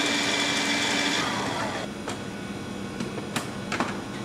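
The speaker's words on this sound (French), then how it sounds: "Nous allons donc maintenant foisonner la crème." An electric mixer whips cream for a classic caramel mousse, a loud steady whir that eases off midway, followed by a few sharp clicks and knocks.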